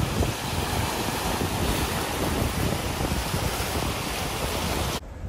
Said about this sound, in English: Look how beautiful those waves are.